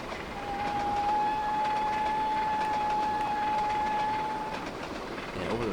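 A train rolls steadily along in the Trainz railway simulator on the Scottish East Coast Main Line, a continuous close rumble with a long sustained whistle-like tone over it and no talk.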